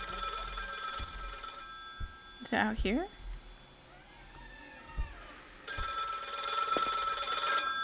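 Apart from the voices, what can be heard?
telephone ringing in the video game Lakefront Restaurant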